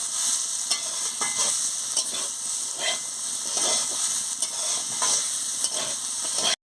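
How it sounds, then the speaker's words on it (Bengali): Pumpkin pieces with chili powder fry in a pan, a steady close sizzle broken by repeated stirring scrapes, running without speech until it stops abruptly. "দিয়ে ভালো করে ভেজে নিচ্ছি।"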